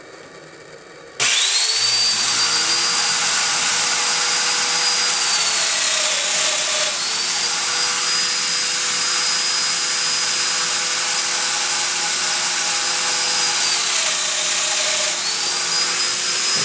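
Domino joiner plunge-cutting mortises into wooden hall table legs and stretchers, a steady high motor whine running continuously with slight pitch dips at each plunge, close and loud.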